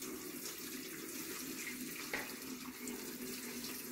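Liquid pours steadily into a container, a continuous splashing gush that stays even from start to finish.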